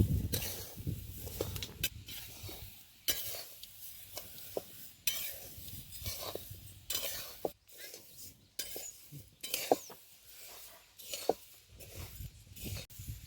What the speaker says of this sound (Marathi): हे आता आपलं धनं भाजून झालेले आहेत.